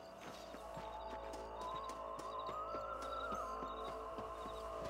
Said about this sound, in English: So I guess this is my horse